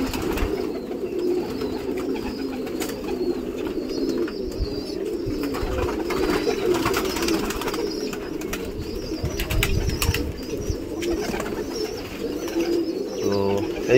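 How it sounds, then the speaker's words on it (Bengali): Pigeons coo continuously in a close flock while being fed, with soft overlapping calls and brief wing flutters, steady throughout. "দেখতে পারবেন যে কত সুন্দর ভালোভাবে এরা খাবে পায়রা"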